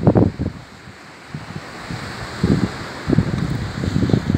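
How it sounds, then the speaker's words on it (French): Rough, choppy sea waves surge and break near the shore at Martigues on a windy day, with swells of surf rising in bursts under steady wind noise and rustling. "Si la mer elle a agité, bah oui, elle est un peu agitée là."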